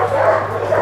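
Dogs at a dog refuge keep up a dense, continuous chorus of barking and yapping, loud and close, with no clear gaps.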